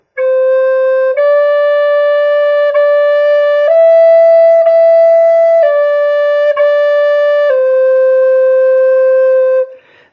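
Side-blown spirit flute playing a slow melody of held notes, moving between pitches with smooth slurs and crisp tongued attacks, some repeating the same note; close and clear, no talking.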